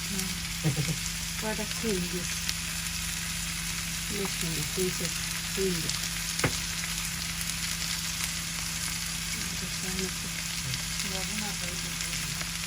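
Potatoes sizzle in a frying pan for a Bangladeshi potato bhaji breakfast, a constant close crackle and hiss throughout, with faint voices now and then.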